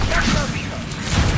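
A Bombarda blasting spell goes off in Hogwarts Legacy during a troll fight, a burst of whooshing and thudding impacts that lands over a spoken voice.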